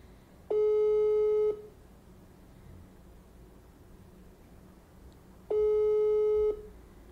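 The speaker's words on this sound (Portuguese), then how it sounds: "Deixa eu ligar pra essa Carol aqui" Phone call tone for an unanswered call, two long steady beeps about five seconds apart with quiet line hiss in between, clear and alone.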